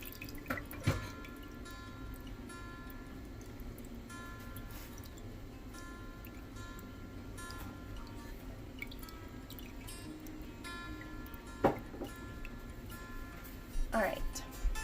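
Fermented Tabasco-style hot sauce drips through a filter with sparse, faint drips and occasional sharper taps over a low steady background, while people talk nearby.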